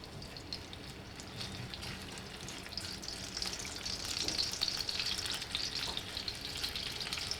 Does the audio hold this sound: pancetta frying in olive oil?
yes